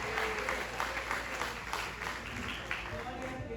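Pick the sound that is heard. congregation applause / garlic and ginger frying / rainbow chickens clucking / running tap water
congregation applause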